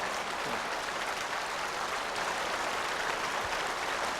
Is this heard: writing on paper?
no